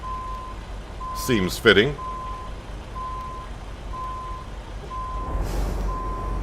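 A truck in American Truck Simulator backs up with steady, evenly spaced reversing beeps repeating throughout, while someone speaks briefly over them partway through.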